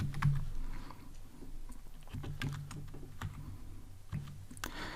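Rapid typing on a computer keyboard while writing Android app code, a close, continuous patter of key clicks with a few louder taps.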